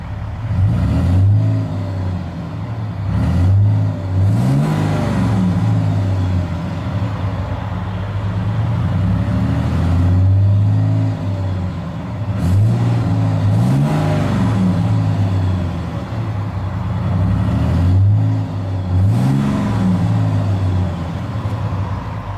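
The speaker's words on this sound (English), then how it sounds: "Fantastic sounding engine." Cummins 6.7 diesel engine in a 2007 Dodge Ram 3500 SLT with EGR and DPF deleted, idling with a deep steady rumble and repeated revs that rise and fall every few seconds, close and loud.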